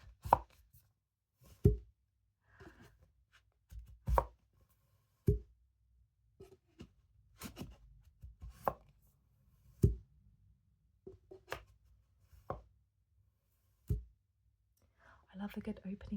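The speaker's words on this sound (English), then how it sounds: "the good thing about head scratchers is that the box sounds great too" A head scratcher box is handled up close, giving soft taps, clicks and knocks at irregular intervals, with quiet whispered talk in between.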